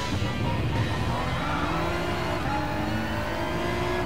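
A BMW M4 GT4 race car engine in Gran Turismo Sport, a continuous loud drone heard from inside the cockpit, holding a steady pitch with faint gear and tire sounds, no voices.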